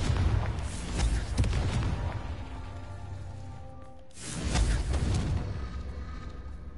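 Two booming blasts of the Confringo explosion spell in Hogwarts Legacy, each a loud burst with a rumbling tail, the second following about four seconds after the first.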